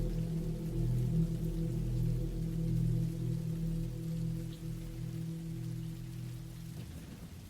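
Rain falls steadily and softly as a low, continuous wash with a faint background hum, no voices.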